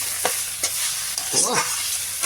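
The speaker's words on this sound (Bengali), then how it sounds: "দেখতে পাচ্ছেন ভালো করে পুরো পুরো জমিয়ে কষানো হচ্ছে, জমিয়ে।" Spice masala stir-fried in a pan for fish curry, with a few scraping spoon strokes over a constant close sizzle, fairly loud and without speech.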